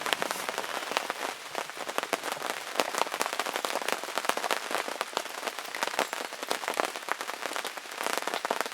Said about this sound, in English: Rain and rain.